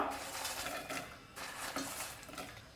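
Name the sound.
adding popcorn to caramel and stirring in pan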